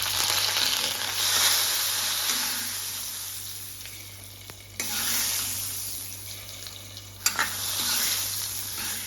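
Curry leaves hiss and sizzle in hot oil, a steady crackling fry with a couple of sharp clinks from a utensil, no voices.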